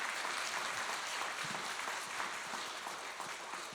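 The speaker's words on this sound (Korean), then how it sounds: "오늘 소중한 강의와 아름다운 음악으로 멋진 무대 꾸며주신 모든 연주자분들께도 다시 한번 감사의 박수 보내드리겠습니다" Steady applause from an audience at a church centennial lecture and concert, honoring the performers; dense, even clapping fills the whole stretch at moderate level with no voices.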